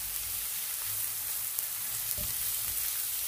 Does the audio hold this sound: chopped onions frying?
yes